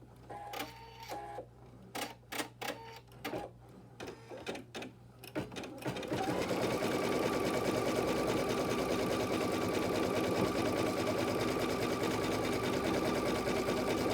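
An embroidery machine works through placement stitches on a gnome table topper block, first in short separate bursts with pauses, then settling into a continuous, steady whirring stitch run that fills the rest of the clip.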